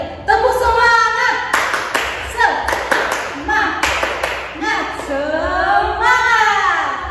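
Children at a Sunday school church service clap a rhythmic cheer in quick bursts, loud and close, while voices chant and talk over the claps.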